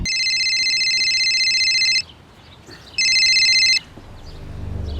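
A telephone rings twice with a bright electronic trill, each ring about a second long with a pause between, fairly loud and clear.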